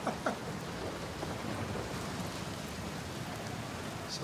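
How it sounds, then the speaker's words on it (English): Heavy rain hisses steadily through a storm in the video game Outer Wilds, with a brief rumble early on, a dense, even wash of noise with no talking. "There are so many storms"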